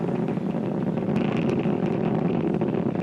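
Falcon 9 first-stage Merlin 1D engines roar during a crewed launch as they begin to throttle down, a dense, continuous broadband rumble with crackling texture, loud and steady throughout with no voices.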